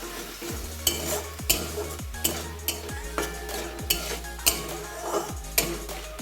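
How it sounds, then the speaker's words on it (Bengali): Ghugni made with mutton fat being stirred in a pan after hot water is added, a spoon scraping and clinking against the metal in a steady rhythm of strokes over a continuous sizzle, close and alone. "এর মধ্যে আমি একটু গরম জল দিয়ে দেবো। দিয়ে এটাকে ভালো করে নাড়িয়ে চাড়িয়ে নেব।"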